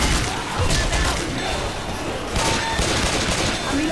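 Pistol gunfire in Left 4 Dead 2, with rapid loud shots running throughout amid dense game noise and chaotic combat sounds, some voices mixed in.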